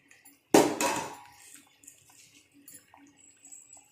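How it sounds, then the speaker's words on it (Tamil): Rice is tipped into a pot of boiling water for chicken biryani, making one sudden close splash and pour lasting about a second, followed by quiet bubbling and faint kitchen clinks. "தண்ணி கொதிக்க ஆரம்பிச்சிருச்சா. இப்போ நம்ம வந்து ரைஸை ஆட் பண்ணிக்கலாம்."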